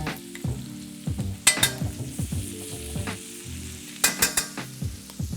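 Steaks frying in butter in a pan, a steady close sizzle with bursts of spattering crackle and some light stirring or handling noises throughout.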